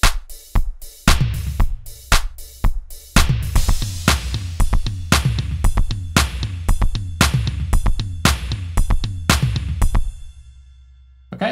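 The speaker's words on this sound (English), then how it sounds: "what you're hearing right now is going to be the MIDI information from the 70s drum kit" A loud 70s-style drum kit beat programmed in Studio One, with punchy kicks, snares and hand claps in a steady groove, then it stops and fades out near the end.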